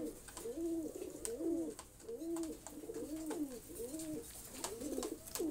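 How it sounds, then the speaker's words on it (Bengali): Cooing from big-size Jacobin pigeons, a male in front and a female behind, in a repeated rolling rhythm of about six calls close to the listener, with no talk. "আমার সামনে যে কবুতরটি আছে এটি হলো জ্যাকোবিন ফুল, জ্যাকোবিন বিগ সাইজ জ্যাকোবিন"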